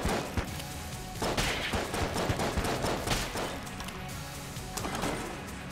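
Enemies in the game Enter the Gungeon fire bursts of bullets, with dense rapid gunfire pops and crashing impacts in clustered volleys throughout, fairly loud and close.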